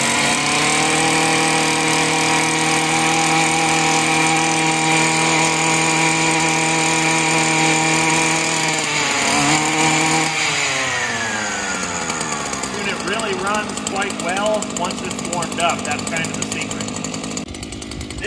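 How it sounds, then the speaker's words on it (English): A Stihl FS94R steel-blade weed eater runs at a high, steady engine whine that is near and loud. About ten seconds in the pitch wavers and sinks as the throttle eases, settling into a rougher, uneven drone. "This again is the FS94R steel weed eater."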